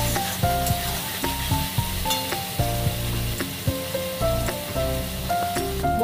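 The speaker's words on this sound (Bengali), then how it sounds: "ভালো করে মশলাটা কষিয়ে নেব" Masala with tomatoes, slit green chillies and salt sizzles in a pan for a vegetarian cabbage dish. A constant close fry hiss is broken by rhythmic stirring scrapes and ringing clinks of the spatula against the pan, with no talk.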